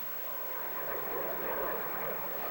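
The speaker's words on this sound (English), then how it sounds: "Jet plane flies a lot higher and faster than Quacker." A jet plane flies overhead with a steady, broad roar that swells slightly and holds for a few seconds, with no voices.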